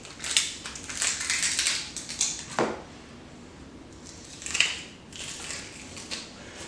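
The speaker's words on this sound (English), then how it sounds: "Put your knife in the center of the onion, right through, peel," A knife slicing through an onion on a cutting board during basic knife-cut prep, heard as a few crisp, close crunching cuts and board taps with short pauses between them, no talking.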